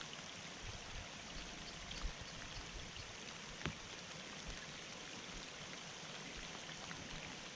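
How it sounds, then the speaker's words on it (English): Steady rain falls at a pond during fishing, a dense continuous patter with no talking and a couple of sharp drops or taps standing out above the even wash. "Because this rain is making me melt."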